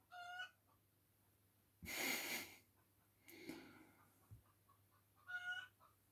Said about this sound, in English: Chicken had something to say